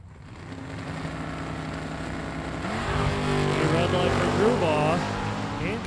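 Chevrolet Chevelle and Mustang drag racing cars at a drag strip, engines droning then surging louder as they launch and accelerate, roaring under a track announcer's talk.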